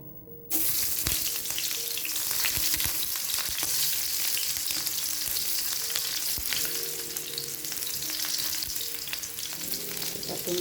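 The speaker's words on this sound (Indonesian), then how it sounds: "Kita tunggu minyak panas, masukkan irisan bawang merah." Sliced shallots hit hot oil and sizzle loudly right away, a dense continuous frying hiss with faint stirring scrapes, up close and without speech.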